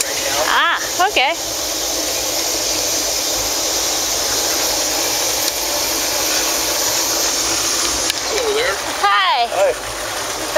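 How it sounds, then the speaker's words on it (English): A hose filling the water tender of a steam engine gives a loud, continuous rushing hiss close by, while voices speak over it and brief chirping sounds cut in now and then. "We're using the hose right now because we cannot use the water tower."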